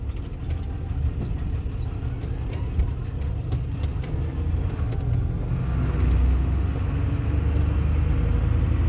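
A converted camper truck drives along a desert track in Spain, its engine a steady close rumble with road noise and rattles, swelling slightly louder partway through; no one talks.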